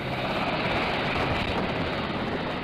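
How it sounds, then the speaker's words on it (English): A Sikorsky Seahawk military helicopter departing an aircraft carrier, a loud, continuous dense roar of engine and rotor wash, steady and close throughout with no voices. "soon board an HS-60 Seahawk helicopter and leave Nimitz"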